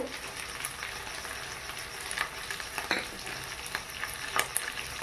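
Ground turmeric, cumin, Kashmiri chili and garam masala sizzle steadily as they are stirred and fried in a pan, with soft scraping strokes now and then over the low, continuous crackle.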